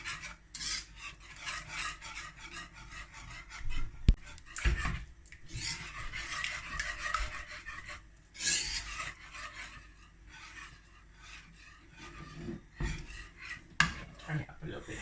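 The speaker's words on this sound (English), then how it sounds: "Just gonna keep stirring." A spoon scrapes and rasps steadily around a pot of melting cheese, with continuous stirring at close range and a few sharper knocks against the pot.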